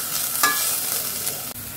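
Meat frying in a small amount of oil in a pan, a close, steady sizzle broken by a few scraping stirs.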